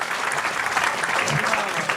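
An audience at a talk breaks into steady, dense applause, many hands clapping at once in a continuous loud wash.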